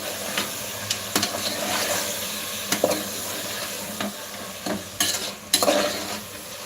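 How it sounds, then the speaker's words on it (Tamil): Meat curry with masala sautéing in a pan for biryani: a steady background sizzle broken by repeated scraping and clanking strokes of a utensil stirring against the pan, close and fairly loud. "இப்போ பார்த்தீங்கன்னா இந்த கறியும் நல்லா இது பாருங்கள் இப்படி வதங்கணும் நல்லா வதங்கணும்"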